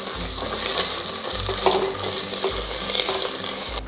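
Ginger garlic paste and chunks of onion frying in a pan for vegetable dum biryani, a continuous loud sizzle with low rumbling bursts from stirring and occasional scrapes.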